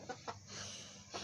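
Backyard chickens clucking in short bursts, a few separate clucks standing out from a steady low background hum at moderate distance.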